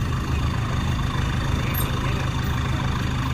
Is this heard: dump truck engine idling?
yes